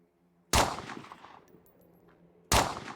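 Two loud, close gunshots from a firearm in the zombie survival game Survive the Nights, each a sharp crack with a short decaying tail, spaced about two seconds apart, with no talk.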